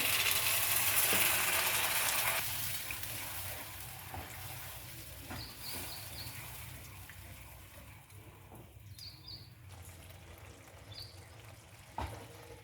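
Water is poured into a simmering poppy seed paste curry in a pan while making a spicy bata fish dish, giving a loud rushing, splashing hiss for about two seconds before it settles into a steady, quieter sizzle with a few light clinks.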